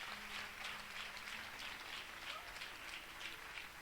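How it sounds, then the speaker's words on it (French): Church audience applauding at a Sunday service, a steady wash of clapping at moderate distance that continues evenly throughout without speech. "Acclame pour toi-même."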